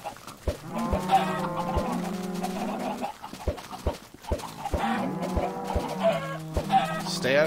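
Minecraft chickens cluck over and over in blocky farm gameplay, close and steady, their nasal calls stacking into a busy flock chatter broken by regular sharp clicks.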